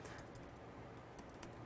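Soft, faint keystrokes tap on a computer keyboard while a traceroute command is entered, a few scattered clicks over a steady hiss of background noise.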